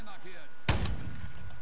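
A single sharp sniper rifle shot in the Warzone video game cracks loudly and then decays into a short tail. Faint voices sound before it.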